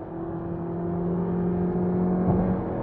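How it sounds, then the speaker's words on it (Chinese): A Mitsubishi Outlander with a CVT accelerates from inside the cabin, a steady engine drone with tonal hum that rises slightly, with a small dip near the end like a simulated gear shift. "就是那种像传统的 AT 变速箱一下下换挡的感觉"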